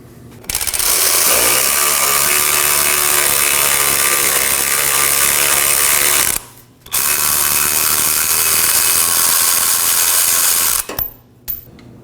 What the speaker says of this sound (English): During removal of this last bolt, support the drive shaft tube with your hands.